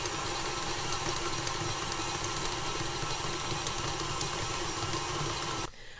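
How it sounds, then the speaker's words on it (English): A stand mixer creams cookie dough for a cookies and cream milkshake cookie, its motor giving a steady, loud continuous whir and rumble that runs without break for nearly six seconds before suddenly cutting off. "these are into my stand mixer. I'm going to lock it, and we're going to cream this until it's light in color and fluffy"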